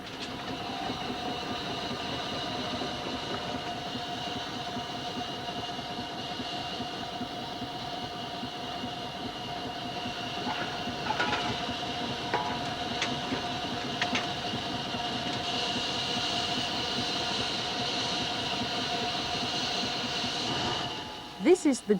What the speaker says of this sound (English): How does the driver control this traction engine?